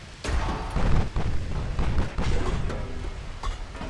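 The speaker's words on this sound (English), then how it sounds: "Fire the HE shells, boys." Naval guns firing HE shells in Ultimate Admiral Dreadnoughts deliver a series of deep, heavy booms, several punchy blasts spaced irregularly with rumbling low thuds between them.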